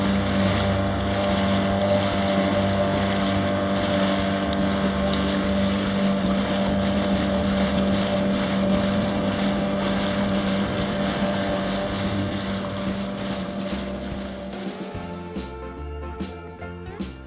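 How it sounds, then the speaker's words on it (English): A dinghy's outboard motor runs steadily on the water on the way to town in St. Augustine, a loud continuous drone with wind buffeting the microphone, then the pitch shifts and falls away near the end as the engine changes speed. "we jumped in the dinghy to go to town and explore"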